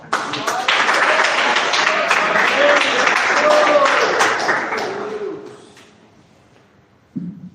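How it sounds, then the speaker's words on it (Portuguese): A church congregation claps to welcome a deacon at a revival service, a loud sustained patter with voices mixed in, dying away after about five seconds before a short burst of sound at the end. "Vamos receber o diácono com palmas."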